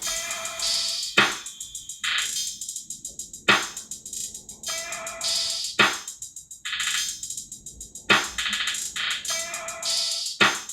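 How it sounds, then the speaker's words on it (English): A looping hip hop drum pattern with sharp, crisp hits and bright rattling percussion repeating in a steady, bouncy rhythm, played alone at moderate volume. "So the drum track sounds like this."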